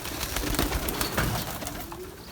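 Pigeons cooing steadily inside a loft of young birds, a dense close chorus of soft throaty coos with some wing and rustling noise throughout.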